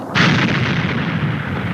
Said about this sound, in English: an explosion considerably larger than this one recorded in 1927